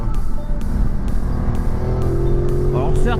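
Ducati 950 Multistrada motorcycle engine, 113 hp, running steadily while riding in rush-hour traffic, a loud continuous drone with wind noise and a brief higher whine near the end.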